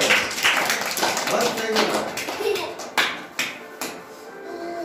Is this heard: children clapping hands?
yes